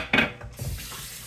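Water from a kitchen tap splashes briefly as a washcloth is wetted, a short close burst of running water that quickly settles into a softer trickle.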